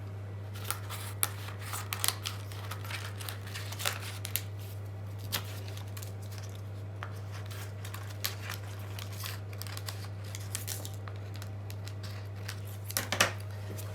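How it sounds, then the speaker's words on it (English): Scissors snip through a sheet of rice paper, a scatter of faint, irregular clicks and crinkly cuts at close range over a steady low hum, with a slightly louder snip near the end. "You just take the scissors and cut out any shape you like."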